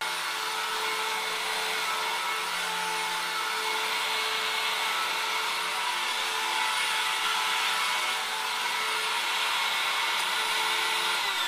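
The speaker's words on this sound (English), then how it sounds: "I'm gonna have to vacuum it now because it's very dirty" A vacuum cleaner runs steadily on a dirty carpet, a loud, close, unbroken whine and whoosh lasting the whole stretch with no pauses or voices.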